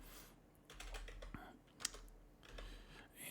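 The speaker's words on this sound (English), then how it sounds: "I'm not very good at typing, so sorry." Typing on a computer keyboard at a quiet desk: irregular bursts of soft plastic key clicks, with one sharper tap standing out, close and fairly faint.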